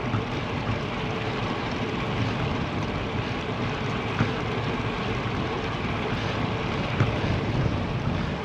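Steady wind roar buffets a bicycle ride on a rural road under threatening skies, with gusts coming from the rider's right side: a continuous broadband rush that stays loud and unbroken throughout, with no talk.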